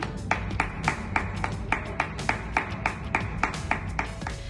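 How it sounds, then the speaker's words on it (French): Hands clap in a steady, even rhythm as a tribute to health workers, sharp close claps repeating about three or four times a second over a constant background hum. "c'est un certain Neymar Junior qui s'est joint à l'initiative pour applaudir ses héros en ces temps durs."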